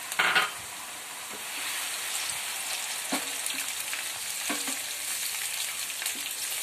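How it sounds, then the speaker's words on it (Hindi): Ginger garlic paste frying in a pan, a steady moderate sizzle with a few soft stirring scrapes, heard alone. "अब देखिए इसके अंदर मैं डालूंगी अदरक लहसुन का पेस्ट।"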